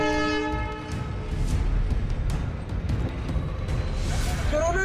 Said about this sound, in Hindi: ऑक्सीजन एक्सप्रेस दिल्ली पहुंची